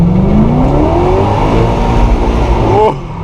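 Chevrolet Camaro engine revving hard at full throttle during street drifting, a loud, rising roar that climbs steadily in pitch for about three seconds and then cuts off abruptly.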